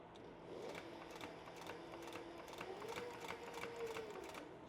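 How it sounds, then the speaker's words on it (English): A sewing machine stitches the two sides of a fringe purse together, its needle tapping in a quick, even rhythm under a soft motor hum throughout, faint but steady, with no speech. "I'm just gonna stitch those two sides together"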